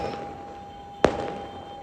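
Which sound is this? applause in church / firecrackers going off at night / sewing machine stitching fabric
firecrackers going off at night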